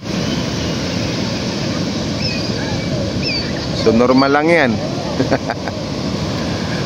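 Surf at Tondaligan Beach in Dagupan, Pangasinan, washing steadily as a broad continuous roar, while someone talks over it throughout and a brief wavering call cuts through near the middle.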